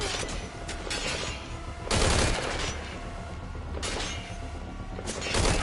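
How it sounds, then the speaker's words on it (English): Rapid automatic gunfire in Metal Gear Solid V: Ground Zeroes, dense bursts of shots rattling continuously with heavier volleys around the middle and end, loud and close with no talking. "I hate how realistic all these guns have become in video games"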